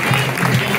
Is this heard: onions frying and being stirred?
no